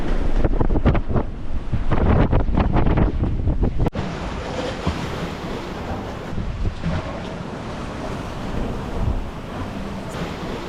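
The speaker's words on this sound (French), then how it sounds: "ces vagues là, elles font dans les 5 ou 6 mètres" Heavy Atlantic Ocean waves of five to six metres crash close by at sea, a loud churning surge at first that settles into a broad rolling roar, with wind buffeting the microphone.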